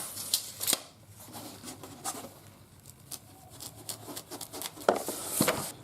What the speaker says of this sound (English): Cut your piece out.